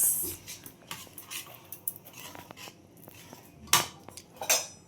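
A spoon stirs a thick adadiya pak mixture in a metal pot, producing scattered scrapes and sharp clinks against the sides with quiet gaps between them, louder knocks near the end, and no talking.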